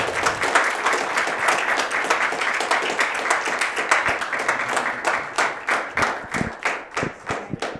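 A big round of applause from an audience at the close of a university event, steady dense clapping that thins toward the end with individual claps standing out.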